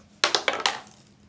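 A small hard die clatters in four quick bright bounces across a computer keyboard, then settles into quiet.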